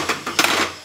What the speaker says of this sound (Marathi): मी आता झाकण खोलून दाखवते तुम्हाला.